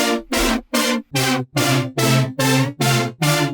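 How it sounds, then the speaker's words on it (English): Nine short, buzzy synth chord stabs from two detuned saw waves through a 12 dB low-pass filter, in a steady rhythm, thick and slightly wavering, each cut off sharply before the next. "The chord patch is simply 2 detuned saw wave going through a low pass 12 filter to create some movement."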